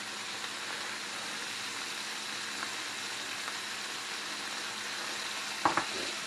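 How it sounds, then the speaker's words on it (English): Salisbury steak patties searing in a hot pan give off a constant, even hiss of sizzling that holds steady throughout, broken near the end by a couple of quick clinks. "we're just going to try to sear these in. We're not trying to cook them all the way through"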